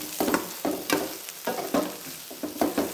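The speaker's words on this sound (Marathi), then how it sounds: "आता खालीवरनं हलवायचं." Vegetable bhaji frying in a pan is stirred, giving repeated scraping swishes over a steady oil sizzle, close and fairly loud, with no one talking.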